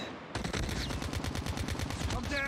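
Rapid automatic gunfire from the mobile video game Call of Duty Mobile, a loud, dense burst of shots that starts abruptly and keeps going steadily to the end.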